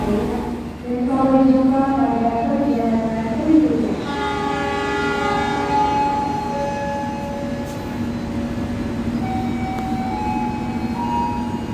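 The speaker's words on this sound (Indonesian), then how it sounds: "Nah, ini dia keretanya. Papasan saat masuk." A train entering Pekalongan station in Indonesia sounds a long, loud horn in several tones over the steady rumble of rolling wagons, then a fainter second horn note follows.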